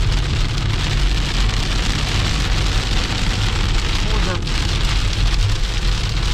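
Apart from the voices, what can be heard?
heavy rain while driving on the road to Batumi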